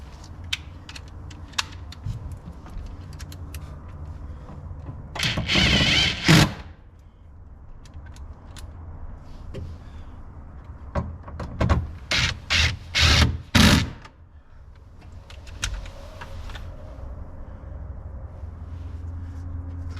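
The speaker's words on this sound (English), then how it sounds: "So we'll put these 10mm bolts back in." Bolts, 10mm, being fitted back into the seat panel of a 2022-or-later Toyota Tundra during an under-seat storage install: a brief burst of metallic rattling and rubbing near the middle, then a run of short ratcheting clicks, with quiet stretches around them.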